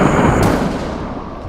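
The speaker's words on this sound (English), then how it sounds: "The moment my composed, sights aligned, patient, I pulled the trigger" A rifle shot while hunting wild hogs in Texas is heard as a loud, broad outdoor blast that rolls away into a fading rumble over about a second and a half.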